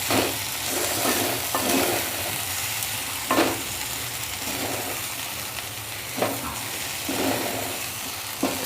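Onion and pea kachori filling seasoned with pav bhaji masala is stirred in a frying pan, giving a steady soft sizzle broken by repeated scraping strokes of the spoon at a loose, uneven rhythm, close and moderately loud.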